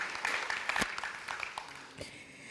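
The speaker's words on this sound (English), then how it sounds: "Another big round of applause to that speech." Light applause from the audience at a primary school renaming ceremony, a soft patter of claps that tapers off after a couple of seconds.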